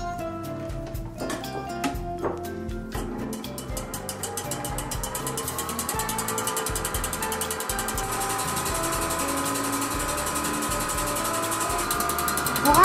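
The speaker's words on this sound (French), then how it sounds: "Donc nous les mettons dans le batteur électrique." An electric mixer whipping three egg whites for a lemon tart meringue, starting with ratcheting clicks and then settling into a steady whirring drone that grows slightly louder, close and continuous, without speech.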